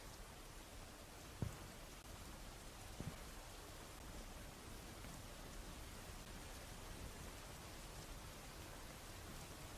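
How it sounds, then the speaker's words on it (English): Recorded rain playing in the background: a steady, faint hiss of rainfall with one or two soft taps, constant and unbroken, with no talk. "I just have rain running in the background, probably on a YouTube video that's just being recorded."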